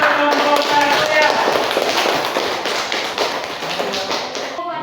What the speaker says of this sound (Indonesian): Tepuk tangan yang meriah untuk kelompok 1 ya.